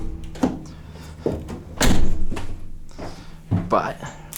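The rear doors of a 2021 Ram 3500 ProMaster cargo van are handled, giving several near, heavy thunks and latching slams, with a voice talking over them.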